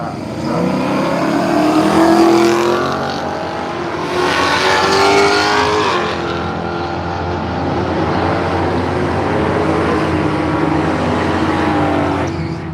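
Holden HQ Monaro in silver and a Camaro drag racing at Willowbank Raceway, engines roaring loud and close through the run with a sustained, rising and falling high-revving drone that never lets up.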